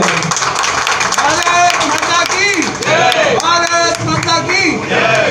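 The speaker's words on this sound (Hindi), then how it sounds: "जोरदार तालियों से" A crowd claps loudly for ACP Surendra Singh Rathi at a police-public meeting in New Mahavir Nagar, West Delhi. The applause is dense and steady throughout, mixed with crowd babble and voices.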